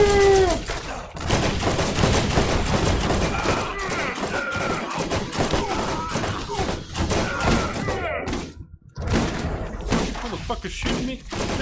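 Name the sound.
gunfire in the video game Borderlands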